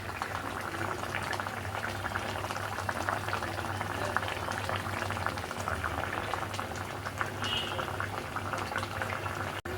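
Fish curry boiling hard in a pot, a dense continuous bubbling and rolling simmer at steady loudness throughout, close up, with no voices.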